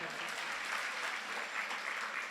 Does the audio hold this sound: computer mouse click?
no